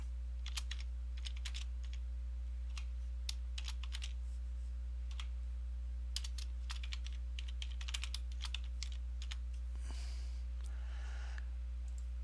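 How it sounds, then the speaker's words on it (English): Text being typed on a computer keyboard, a steady stream of quiet close key clicks in uneven bursts over a constant low hum, no talking. "type your text"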